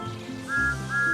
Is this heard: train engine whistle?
yes